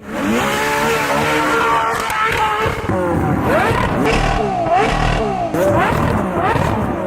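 A loud Ferrari 812 Competizione 6.5-liter naturally aspirated V12 revs repeatedly toward 9,000 RPM, rising and falling in pitch with sharp upshifts, roaring close and continuous throughout.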